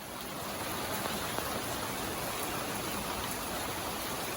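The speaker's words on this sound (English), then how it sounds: "At the start of summer, we had quite a bit of rain." Steady rain falling on a backyard garden at the start of summer, a soft, even hiss of drops with no pauses, fairly quiet and unbroken throughout.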